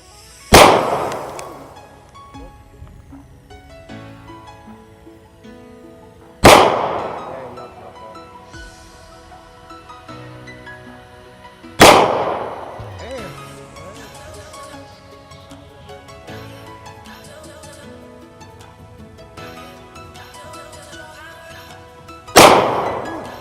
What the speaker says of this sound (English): we're gonna shoot some cans just so we can have a better target to shoot at